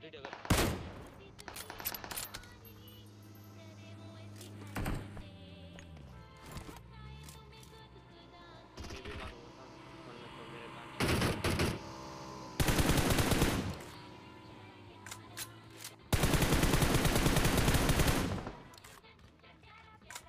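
Sporadic bursts of automatic gunfire from a PUBG Mobile match, mostly short and separated by quieter gaps, then a few longer loud volleys near the end; a voice talks in between.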